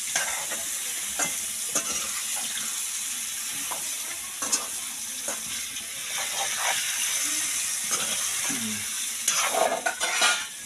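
Papaya pieces for a curry hiss steadily in a full pan while a utensil stirs and scrapes now and then, close by.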